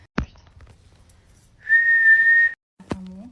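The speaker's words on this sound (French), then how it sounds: "Un moment que je fais que chanter, enfin siffler." A person in a hotel room whistles one steady, high note for about a second, clear and alone in an otherwise quiet room, with a couple of faint knocks before and after.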